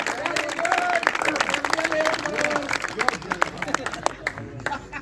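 Applause and cheering from an audience at a Hindi poetry gathering, dense clapping with voices mixed in, fading toward the end.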